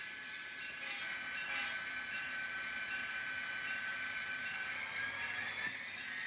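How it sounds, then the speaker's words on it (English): A train rolls past at a distance, a faint, steady rumble with thin high rail tones running through it, heard alone without talk. "and just wait for the other train to pass"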